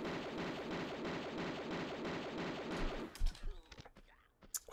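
Rapid M16 rifle fire from Tomb Raider 2, a dense, loud stream of shots for about three seconds that breaks off into a few scattered bangs and clatter.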